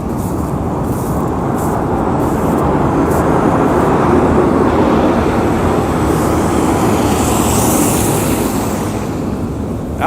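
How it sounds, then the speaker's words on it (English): A big semi truck rumbles down a road during a winter storm, a steady, loud, broad roar that holds for the whole stretch without people talking. "That was definitely probably a big truck. I heard rumbling down the road."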